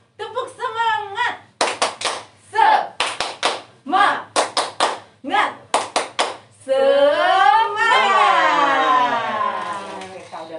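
Children and leaders in an online Sunday school class do a rhythmic spirit-clapping game (tepuk semangat), with crisp claps in quick grouped bursts. Voices join in between the claps, and a chanting voice rises at the end.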